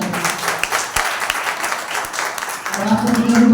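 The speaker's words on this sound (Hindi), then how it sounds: "आइए अजय अंकल के लिए एक जोरदार ताली बजाते हैं।" A congregation at a Sunday church service breaks into applause, a dense, steady wash of clapping with scattered nearby claps, while voices talk over it and swell toward the end.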